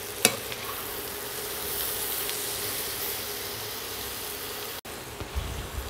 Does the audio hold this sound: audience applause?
no